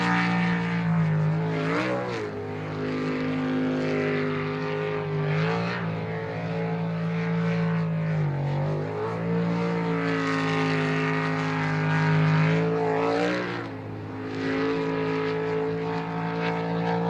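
A drag racing boat nicknamed the Girlfriend runs at an ASBR pro series race in Yakima, Washington, its engine a steady loud roar with wavering pitch that dips and surges several times across the run.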